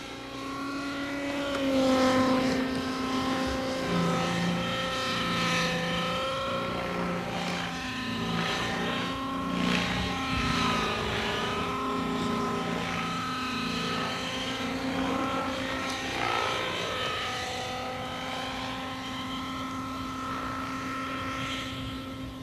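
Radio-controlled model aircraft engines whine loudly through aerobatic passes, the pitch rising and falling as the planes swoop near and away, with a continuous droning buzz.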